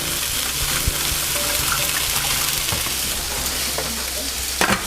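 Turkey meatballs frying in a pan, a continuous close dense sizzle with faint clinks of utensils and a brief louder crackle near the end.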